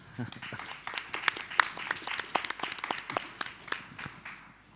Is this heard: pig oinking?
no